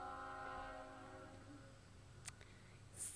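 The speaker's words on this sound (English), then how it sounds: "train is interrupting me" A train rumbles past at a distance with its horn sounding in long steady tones, while rail noise continues underneath and a sharp click breaks in near the end.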